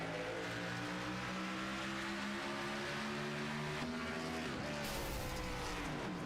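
A video-game race car engine drones loudly at high revs, pitch climbing steadily toward 9,000 rpm, then dropping and jumping as it shifts, with a harsh metallic tone.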